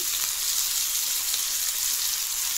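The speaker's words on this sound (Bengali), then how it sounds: "তো চলো কিছুক্ষণ ফ্রাই হয়ে যাক" Karkal fish frying in a pan for a potato-and-fish curry, giving a steady loud hissing sizzle with no break and no voices.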